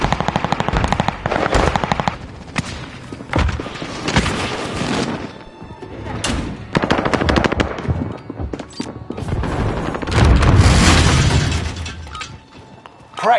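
Loud, rapid bursts of automatic gunfire in a shooting video game, arriving in dense repeated volleys with short gaps and a few heavier booming hits.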